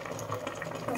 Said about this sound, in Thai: มาให้มันเดือดแป๊บนึงก่อนนะคะให้ปลามันสุกก่อน